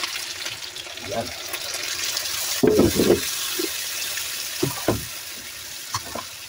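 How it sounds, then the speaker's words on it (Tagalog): Broth poured into a pot of adobo with pork and chicken, a splashing liquid pour in short bursts under someone speaking, with a steady background hiss. "Lagyan natin sabaw na guys."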